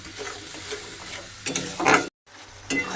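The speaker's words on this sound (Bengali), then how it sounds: "আমায় কষিয়ে নিতে হবে মশলাটাকে" Masala spice paste stirred and fried in a pan, with a soft sizzle and scraping strokes that swell near the end, a brief cutout, then resume.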